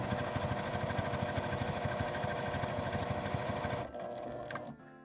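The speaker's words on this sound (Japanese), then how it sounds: "両端を縫います。" A sewing machine stitches along both ends of cotton seersucker cloth for a small lined tote bag, a rapid steady mechanical rattle running close and loud, then slowing and stopping near the end.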